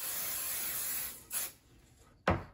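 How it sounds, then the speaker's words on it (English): An aerosol can of temporary adhesive spray sprays onto an embroidery hoop in a long hiss, then gives two short bursts after a quiet pause, the last one sharp and loud. "They recommend you spray this outside, but I'm not gonna go outside and spray it"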